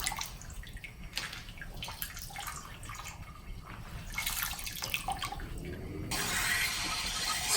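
Water pours and trickles from a squeezed brew-in-a-bag grain bag full of wet mash while making an all-grain Brut IPA, a steady splashing drain that grows louder and fuller toward the end, with no talking.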